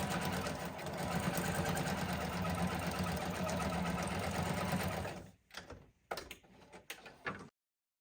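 A sewing machine stitches lace and pockets onto a handmade junk journal, running steadily and loud for about five seconds, then stopping and restarting in a few short bursts before falling silent.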